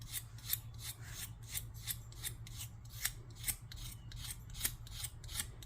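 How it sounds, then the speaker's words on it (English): A new razor blade scrapes paint off a finished surface in steady, rhythmic rasping strokes, close and continuous over a low background hum. "Use a little scraping action."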